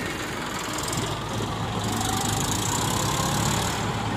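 A Massey Ferguson 246 DI Dynatrac tractor hauling a trolley runs with a steady close diesel drone and rumble, continuous and unbroken with no talk.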